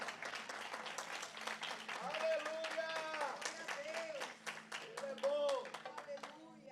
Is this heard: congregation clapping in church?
yes